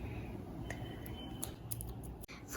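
Scissors snip through a paper circle being cut for a tooth fairy paper craft, giving a few faint, soft clicks and crisp snips over a quiet background, with a brief louder rustle at the very end.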